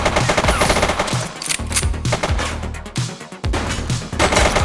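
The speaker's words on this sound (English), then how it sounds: "Shots fired!" Rapid automatic gunfire in the police video game The Precinct, loud and dense, with bursts of shots broken by a couple of brief pauses.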